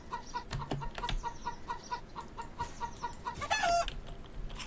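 Chickens cluck in the video game Bear Simulator, a run of short repeated clucks at a steady pace with a louder squawk near the end, over a low game background.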